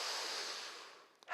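A single long, deep breath during a morning yoga practice, a steady close airy hiss that fades out and ends in a brief sharp sniff.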